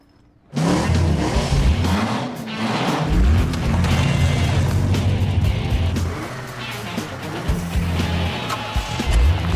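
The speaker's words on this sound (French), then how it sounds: "Préparez-vous à vibrer au son des rugissements de moteur de ce grand classique de duels automobiles." Loud racing car engines roar and rev in a continuous, throbbing blast that starts abruptly and stays powerful throughout.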